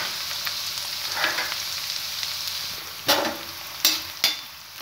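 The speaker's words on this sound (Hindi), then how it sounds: "प्याज को हम ब्राउन होने तक भूनेंगे।" Onions frying in a pan give a steady, close hiss and crackle, with a few louder sizzling bursts as they are stirred.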